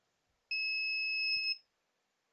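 A car wash timer controller sounds its alarm buzzer in a single steady electronic beep of about one second, loud and close in an otherwise quiet room.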